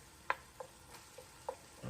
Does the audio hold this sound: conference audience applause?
no